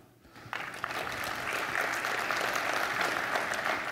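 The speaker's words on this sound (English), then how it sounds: "If you think it's Oregon, raise your hand. Clap." A conference audience claps to vote, the applause swelling from a quiet start into steady, dense clapping that holds loud to the end.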